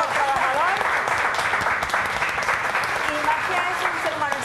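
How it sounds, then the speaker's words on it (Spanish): A studio audience on a Spanish-language TV programme gives a promoter a loud, continuous round of applause, with voices and faint tonal sounds over the dense clapping. "un aplauso"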